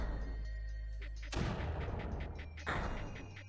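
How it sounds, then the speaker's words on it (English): Mortar fire in the video game Creeper World: two heavy, booming blasts land about a second apart over a low, steady game rumble. "See if the new mortar can keep this wall alive at all."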